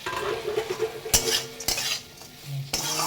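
Fish, green chilli and ginger go into eggplant frying in a pan, with a utensil scraping and clanking against the metal in sharp knocks and stirring strokes over a soft sizzle.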